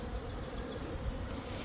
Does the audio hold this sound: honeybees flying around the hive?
yes